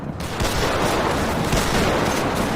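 Dense gunfire in a GTA V roleplay shootout between police and gangsters, a loud continuous barrage of rapid shots blending into a harsh wall of noise with no talk.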